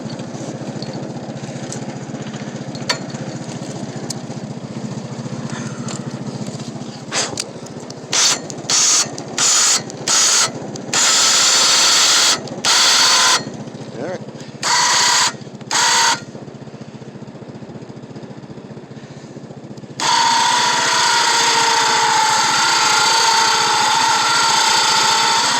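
A Harbor Freight Badlands 2500 lb winch reels in cable with a loud, steady mechanical whine and grinding drone, broken midway by a series of sharp on-off bursts, then running continuously again at a higher, harsher pitch.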